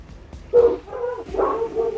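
A neighbor's dog gives a couple of short, close barks and yips in quick succession.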